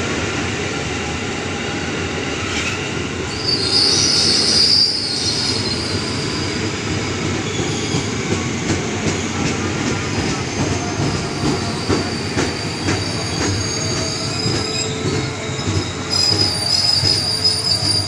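A Commuterline train from Bogor bound for Jakarta Kota pulls into a station with loud, shrill wheel squeals over a continuous heavy rail rumble and clatter. No voices are heard.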